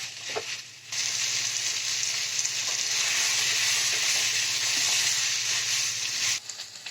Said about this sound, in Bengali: এবার আমি সব একসঙ্গে আর একটু ভালো করে কষিয়ে নিচ্ছি